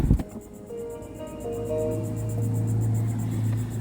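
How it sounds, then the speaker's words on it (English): A 2017 Kia Soul plays a soft electronic goodbye chime as it shuts off. A few gentle tones rise and sustain quietly over a low hum inside the car, with no voices. "when I turn it off, it says goodbye with this lovely little chime"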